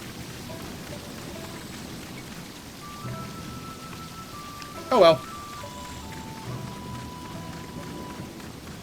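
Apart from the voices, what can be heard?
rain falling in the video game Sakuna of Rice and Ruin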